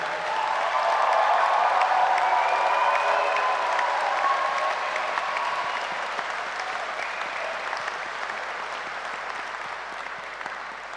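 Audience applause at a university graduation ceremony in Edinburgh, a dense, sustained clapping from a large crowd that holds steady and then slowly thins over about eleven seconds, with no talk over it.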